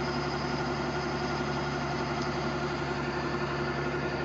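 A tractor engine idling in a harvest field, a steady droning rumble with constant vibration throughout, close and loud with no voices.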